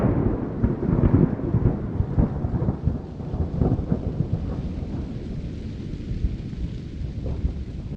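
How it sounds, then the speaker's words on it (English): Thunder rolls and rumbles through a steady rain during a storm along a backpacking trail on the Savage Gulf loop, loud at first and then easing into continuous rainfall. "there was like some pretty intense lightning and thunder, and rained a little bit"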